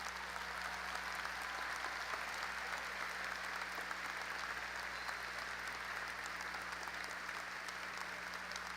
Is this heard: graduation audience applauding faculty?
yes